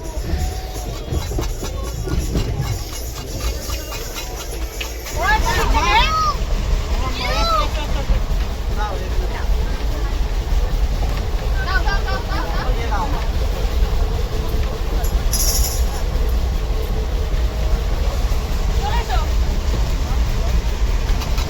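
A passenger train pulls away from a station toward the next stop, its steady low rumble and rattle running throughout, with voices and crowd babble mixed in the carriage.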